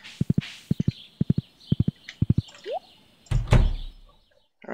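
Horse hooves clip-clop in the farming video game Stardew Valley. They fall in crisp, evenly spaced pairs and bursts, followed by a soft thunk and a brief rustle near the end.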